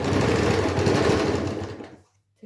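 Domestic sewing machine stitching seams on a pillow, a steady fast motor whir with needle chatter that runs close and loud for about two seconds, then stops abruptly into near silence.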